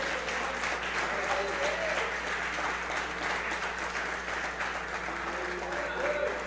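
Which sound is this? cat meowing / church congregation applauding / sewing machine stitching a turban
church congregation applauding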